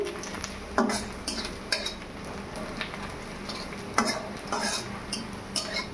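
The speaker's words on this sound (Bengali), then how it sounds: "পেঁয়াজগুলো হালকা লাল লাল করে ভেজে নেব।" Onions fry in hot oil for an egg curry, crackling steadily while a spatula scrapes and knocks against the pan every second or so, close and clear with no voices.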